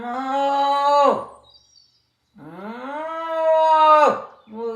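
A human voice imitates a cow mooing in a children's story, two long drawn-out lowing calls separated by a short pause, close and clear, with another starting at the end.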